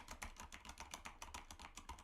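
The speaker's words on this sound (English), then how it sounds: "Can you guys hear me typing?" Rapid typing on a computer keyboard, a steady run of crisp, evenly spaced key clicks at close range with no talk over it.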